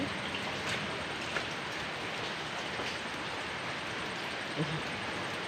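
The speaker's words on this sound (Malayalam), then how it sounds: "മഴയാണ്" Steady rain hisses down in a dense, even wash of noise, with a couple of faint knocks partway through.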